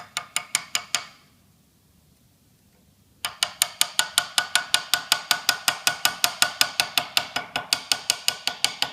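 A hammer taps a chisel in rapid, even strikes for hand engraving on steel, each one a bright metallic tick. A short first run of taps stops for a pause, then a longer steady series follows, close and with no talk.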